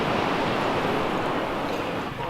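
Surf crashes steadily below the cliffs at Kelingking Beach on Nusa Penida, Bali, a loud, continuous wash of ocean noise mixed with wind buffeting the microphone.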